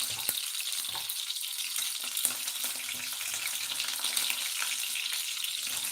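Kingfish fillets fry in hot oil in a pan, a dense close crackling sizzle that pops irregularly throughout, with no one talking.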